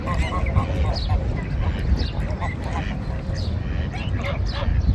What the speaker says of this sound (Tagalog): Ngayon nag-aaway yung mga ipik.